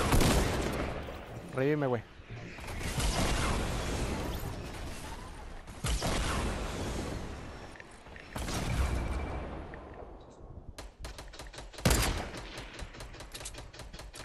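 Gunfire and explosions from a Fortnite Battle Royale match break out in sharp bursts and rapid volleys with a rocket blast, while players talk excitedly over the noise.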